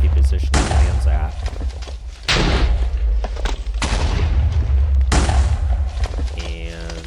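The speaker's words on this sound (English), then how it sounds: "it summons an explosion at the position it lands at" Repeated explosions from a thrown projectile entity in a modded Minecraft game, three loud booming blasts each with a long rumbling decay, the last followed by faint tonal game sounds.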